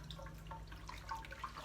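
Blanched broccoli pieces lifted out of a bowl of water, giving soft drips and light splashes over a low steady background hum, with no talk.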